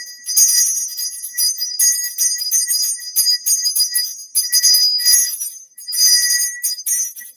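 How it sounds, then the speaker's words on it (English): Bright, high-pitched chiming wedding bells ringing in quick repeated bursts with short pauses between them, loud and close with no voices. "Wedding bells are ringing."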